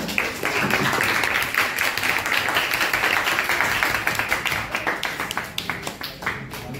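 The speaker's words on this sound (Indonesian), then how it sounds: "Baik, tepuk tangan untuk Maulin." Classroom applause from students, a dense burst of many hands clapping that holds steady and then thins into scattered claps as it fades toward the end.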